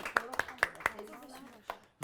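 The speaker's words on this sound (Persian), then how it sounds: "تشویق بفرمایید" Several sharp hand claps in a loose burst of about five on a Persian game show, near and fairly loud, with chatter from the contestants running underneath.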